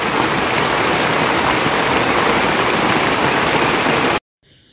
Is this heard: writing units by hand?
no